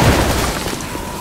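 A big gun firing in the zombie shooter Left 4 Dead 2, a brief loud burst of heavy gunfire with a booming onset that tails off quickly, heard close with no talking.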